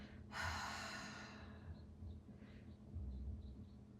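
A slow, deep exhale during a post-rugby breathwork stretch, starting as a loud breathy rush and fading gradually over several seconds, close and alone with a low room rumble underneath.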